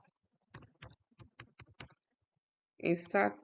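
Computer keyboard keys clatter in several quick bursts of separate clicks while an SQL insert statement is typed, followed after a short pause by a denser, louder flurry of keystrokes near the end.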